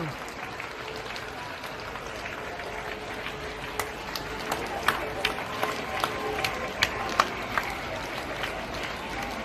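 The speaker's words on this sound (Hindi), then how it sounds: "हम सभी तब तक तालियां बजाएं जब तक वो पोडियम पर ना पहुंचे।" A crowd claps continuously as a speaker walks to the podium at Bageshwar Dham, a dense steady applause with occasional sharper claps standing out near the listener, mixed with crowd murmur.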